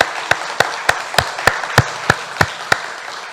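Church members clap in thanks, a slow, regular series of about nine loud, sharp claps evenly spaced about a third of a second apart, close and clear over a quiet room.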